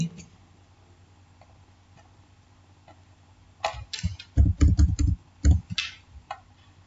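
Fingers tap a computer keyboard while entering text into a PowerPoint slide, giving a quick run of close, clicky keystrokes after a quiet stretch.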